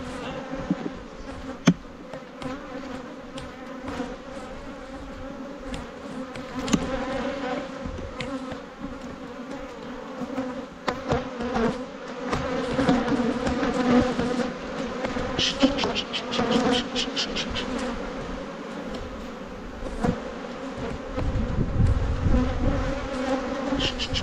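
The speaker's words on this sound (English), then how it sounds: "pretty full of bees." Dense, continuous buzzing of many honeybees close by, swelling and rising in intensity at times, with light knocks and handling noises throughout.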